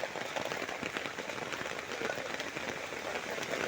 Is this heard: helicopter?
no